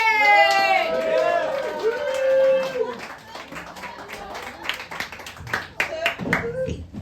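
A comedy club audience claps and cheers for the next comedian, with scattered applause rising and falling after a man's loud, excited introduction.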